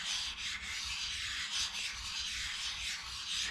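Hardened steel is lapped by hand on 220-grit abrasive, a steady close rasping rub that keeps going with a slight back-and-forth rhythm and no talking.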